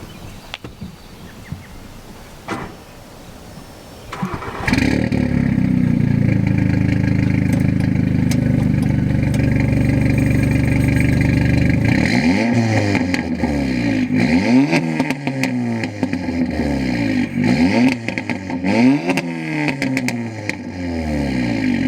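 An Audi A3/S3 engine with a stock catback, resonator delete and downpipe cranks and fires up with a loud exhaust roar, settles into a rumbling idle, then revs repeatedly in sharp bursts.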